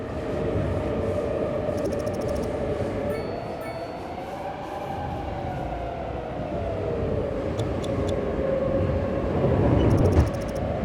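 A three-car diesel multiple unit train in Cities Skylines 2 rumbles along continuously, a loud steady rolling drone with faint clinks, no talk heard.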